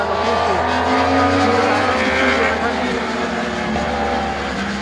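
Racing motorcycles roar around Suzuka Circuit in a legends parade run, loud sustained engine whine rising and shifting as bikes pass close, under an excited announcer's commentary.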